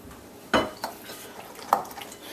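Roasted eggplant is crushed and stirred in a bowl, giving a couple of sharp utensil clinks against the dish over a soft steady scraping, close by and without speech.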